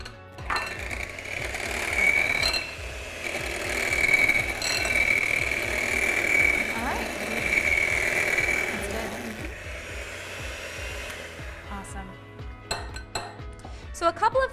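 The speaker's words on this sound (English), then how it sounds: "to make it nice and mashed, we'll have Megan take our hand mixer and really blend it together" An electric hand mixer blends mashed cauliflower in a kitchen bowl. It gives a loud, steady whirring drone with a thin whine for about nine seconds, then cuts off, followed by softer clinks and knocks.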